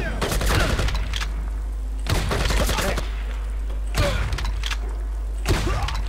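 Gunfire from a gun in the video game Project IGI: four separate bursts of rapid, loud shots spaced about two seconds apart over a steady low game hum, with no voice.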